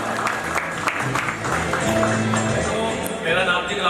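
Audience applause at a JCL Premier 2024 opening ceremony, a steady wash of clapping from a crowd, moderately loud, with background music and a voice over it.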